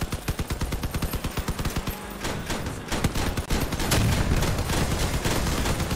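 Rapid bursts of cannon and machine-gun fire from a vehicle combat video game, loud and dense, with a steady stream of sharp shots that swells into heavier, continuous firing toward the end.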